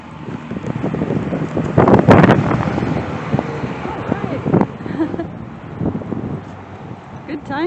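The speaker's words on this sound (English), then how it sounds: "Oh boy, it's windy." Strong outdoor wind buffets the microphone in loud, gusty rumbles that swell and ease over several seconds, with a person speaking briefly beneath it.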